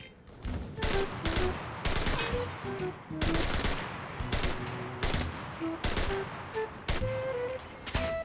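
Rapid bursts of automatic gunfire in the World War II shooter Enlisted, loud and close, firing in repeated volleys with brief gaps across the whole stretch.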